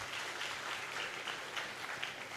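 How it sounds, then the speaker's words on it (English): An audience claps steadily and evenly throughout, a dense spread-out wash of many hands at moderate volume with no voices on top. "Clap for yourselves."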